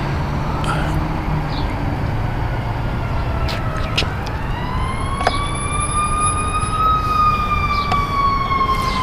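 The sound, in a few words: emergency vehicle siren approaching from behind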